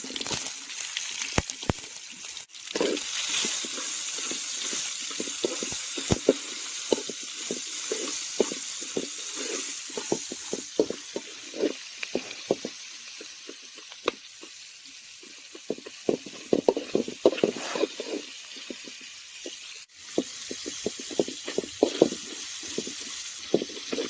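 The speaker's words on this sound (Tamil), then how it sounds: "இப்போ வந்து நம்ம வெங்காயத்தை போடலாங்க" Onions fry in hot oil with curry leaves, giving a steady, fairly quiet sizzle and hiss with scattered crackles and pops over the whole stretch, plus a couple of sharper knocks from the pan.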